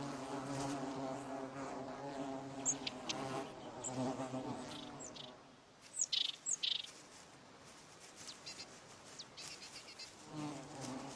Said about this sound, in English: The bees understandably resent having their stores plundered.